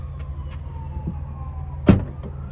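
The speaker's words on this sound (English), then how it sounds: "Sorry for the siren as well." A passing emergency vehicle siren sounds during a drive in a 2024 Chevrolet Traverse Limited LT. The wail is faint and distant, its pitch gliding slowly downward under low road rumble, with one brief thump near the end.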